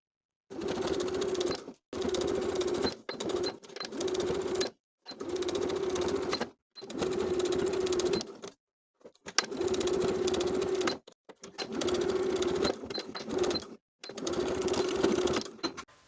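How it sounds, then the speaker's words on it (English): Home sewing machine stitching in the ditch of a shirt's main seam, running in about eight bursts of one to two seconds with short pauses between them, a steady mechanical hum close by and no voices. "I'm going to stitch in the ditch of the main seam all the way around"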